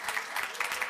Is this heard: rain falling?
no